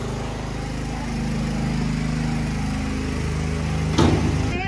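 A small motorcycle engine runs steadily outdoors in heavy rain, with a loud continuous drone that rises slightly as the throttle opens, then a brief sharp burst near the end.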